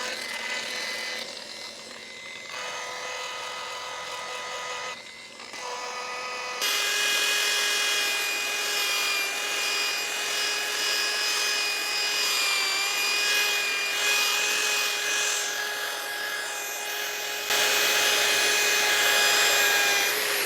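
A power sanding machine smoothing the edges of a repaired concrete firepit runs as a steady, loud whirring drone with a high whine, shifting in pitch as it presses onto and lifts off the surface, with no talking.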